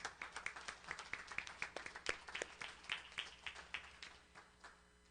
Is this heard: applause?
yes